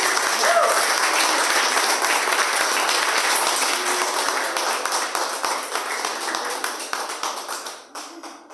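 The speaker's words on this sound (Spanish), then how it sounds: "Dar un fuerte aplauso a la presencia de Dios." A Spanish-speaking church congregation bursts into loud applause, a dense roar of clapping that thins into scattered individual claps before fading out at the end.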